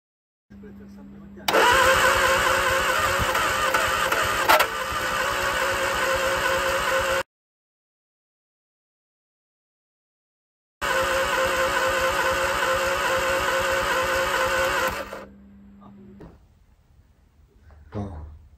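Engine of a rare Sunbeam Avenger estate wreck being cranked, catching and sputtering in two long loud bursts separated by a silent gap, with a steady whine under the racket and quieter fading noises at the end; a voice is present.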